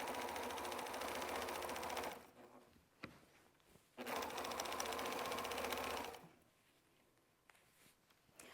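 A sewing machine stitches quilt strips in quilt-as-you-go work, running in two loud, steady bursts of about two seconds each, separated by short quiet pauses with faint handling clicks.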